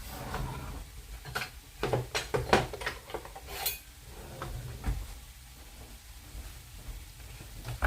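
A bread knife saws through stuffing bread, cutting it into cubes, with a cluster of sharp taps and clicks against a board early on, then softer, sparse scraping and knocks at close range.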